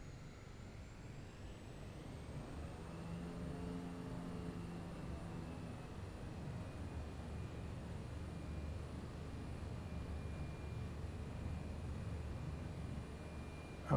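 A simulated Cessna light aircraft engine drones steadily during takeoff in Microsoft Flight Simulator, faint and continuous, with a rising whine and no talk.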